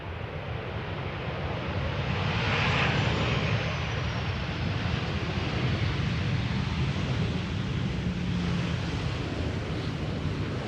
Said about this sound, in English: Now this is a textbook KLM landing.